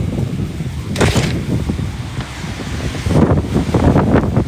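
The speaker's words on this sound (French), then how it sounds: "Le vent, là, c'est un de mes phénomènes météorologiques préférés." Steady wind rushes through a video game scene, with two stronger gusts swelling over a constant airy roar and no talking.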